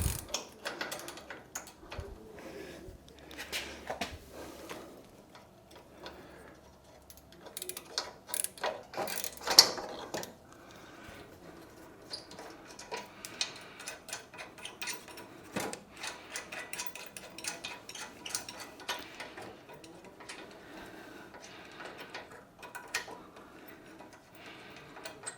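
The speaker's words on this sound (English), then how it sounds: "I'm taking a 17 spanner to loosen this bracket" A 17 mm spanner loosens the bracket of a vehicle spotlight that is being taken off for repair, giving a long run of close metallic ratcheting clicks and small knocks in an uneven rhythm, busiest in the first half.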